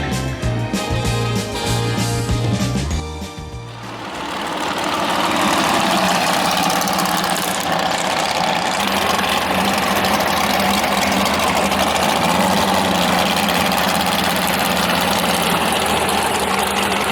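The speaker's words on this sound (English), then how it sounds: "It has a 498 cubic inch big block Chevy, produces about 700 horsepower, and he races in Super Pro class." A 498 cubic inch big block Chevy in a roadster drag car runs loud and close at the strip in Las Vegas, a deep lumpy rumble that shifts into a sustained roaring drone.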